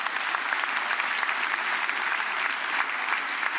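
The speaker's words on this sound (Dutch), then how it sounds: "Een applaus hier," A stand-up comedy crowd bursts into brisk, dense applause that holds at an even, lively level for a few seconds.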